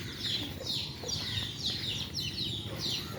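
Chickens outdoors cluck faintly and repeatedly at a steady pace, about two short calls per second, against a quiet background.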